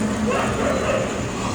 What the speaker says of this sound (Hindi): अभी मेरे बैकग्राउंड म्यूज़िक में आपको कुत्तों की आवाज़ भी आ रही होगी